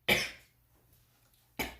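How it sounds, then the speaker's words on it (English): Two sharp, close coughs separated by more than a second of quiet, each a single harsh burst. "Cough."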